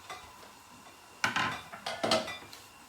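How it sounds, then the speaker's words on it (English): Pasta stirred in a pot of water coming to the boil, a few clattering scrapes and knocks of a utensil against the pot, moderately close over a low background hiss. "I always just give it a bit of a stir so that it doesn't stick on the bottom while it comes to the boil"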